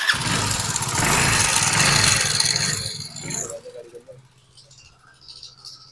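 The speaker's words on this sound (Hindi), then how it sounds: "स्टार्ट करो गाड़ी को।" A Hero Splendor motorcycle in a repair workshop, its engine running with a loud rattling idle for about three and a half seconds, then cutting off and leaving quiet background noise.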